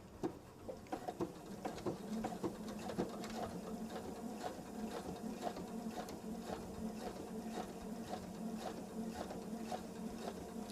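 A sewing machine stitches a coaster seam with quick, rhythmic mechanical clatter and ticking, close and steady, broken by a few brief pauses near the start.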